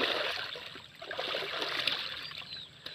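Water splashes and gurgles in a village pond as someone dunks, a close, busy spatter of trickles and slaps at moderate level, with faint birdsong behind.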